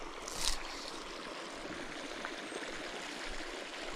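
An Arizona creek flows in a steady broad rush of moving water, constant and fairly near, with a faint splash near the start and no voices.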